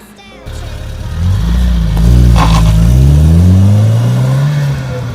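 A 2.0-litre petrol Nissan Bluebird T72 engine hums and then revs up as the car pulls away, the tone rising and falling through gear changes, steady and close.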